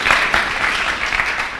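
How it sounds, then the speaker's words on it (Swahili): A youth church congregation bursts into brisk, dense applause at close range, a steady wash of many hands clapping with no voices over it. "Simuni pigia makofi"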